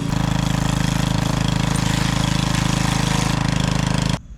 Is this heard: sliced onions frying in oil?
no